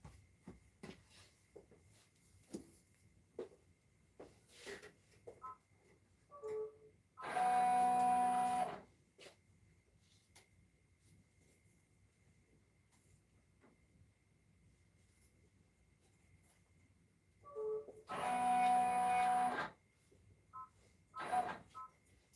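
An embroidery machine stitches fabric, with two loud, dense mechanical bursts separated by quiet gaps that hold scattered beeps and light clicks nearby.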